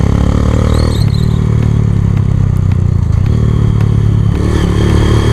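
A Hero Karizma-R motorcycle on the move, its engine a loud, close, continuous drone with slight shifts in pitch and a steady rush of wind and road noise throughout.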